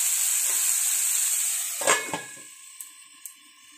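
Karela and potato fry in a pan over a low flame with a strong steady sizzle and hiss. A couple of soft clanks and stirring sounds follow as the sizzle fades.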